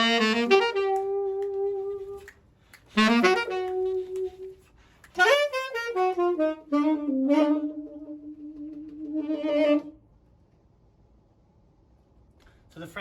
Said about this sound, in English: they're playing their French music.